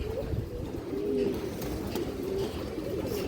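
A silver khaki female pigeon coos in soft, low, repeated phrases close by, over a faint background of other birds and light handling noise.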